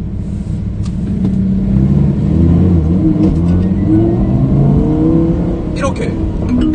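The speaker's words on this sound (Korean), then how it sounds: "엔진이 뒤에 있으니까 오픈 안 하고도 엔진 소리를 들을 수 있게 요 창문이 따로 열린다" A rear-mounted car engine rumbles steadily from behind the cabin, heard through a separately opened rear window while driving, with a low continuous drone and mild revving under a voice.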